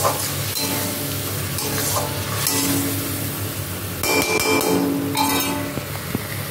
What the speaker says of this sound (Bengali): দিয়ে আবার একটু নেড়ে করে ঢাকা দিয়ে সুন্দর করে একদম কষতে দেবো